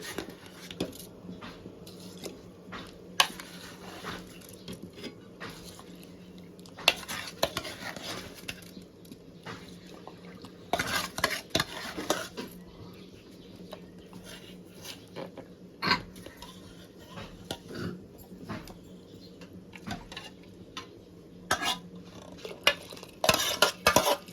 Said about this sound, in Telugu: బియ్యం వేసుకున్న వెంటనే కింద నుంచి గరిటలు కలపాలండి